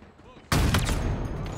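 Sniper rifle fire in the video game Halo Infinite, a sudden loud burst that cuts in halfway through and rings out with rapid follow-up crackle, standing alone with no voices over it.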